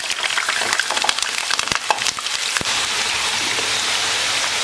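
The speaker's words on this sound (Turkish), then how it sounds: "Uzun patates kızartması yapar gibi doğradığım patatesleri atıp kızartıyorum." Hot oil sizzles and crackles loudly as long-cut potatoes fry, with sharp pops early on settling into a steady frying hiss.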